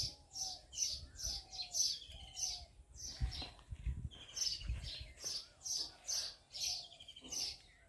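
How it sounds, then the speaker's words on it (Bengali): Many house sparrows chirp close by in a dining area of a home in the Sundarbans, with quick bright bursts repeating steadily through the whole stretch over a low rumbling background. "চড়ুই পাখি চড়ুই পাখি ডাকে"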